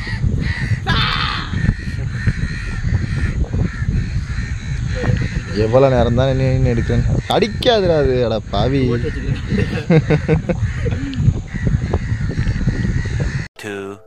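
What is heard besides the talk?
crow cawing, caught in a fishing net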